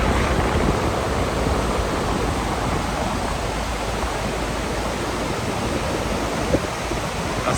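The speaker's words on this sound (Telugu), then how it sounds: "అస్సలు వర్షానికి నీళ్ళు అయితే పరవళ్ళు తొక్కుతుంది నిజంగా." A rain-swollen stream gushing along a route near Chitradurga Fort in Karnataka, a loud, dense, steady roar of rushing water throughout with no voices.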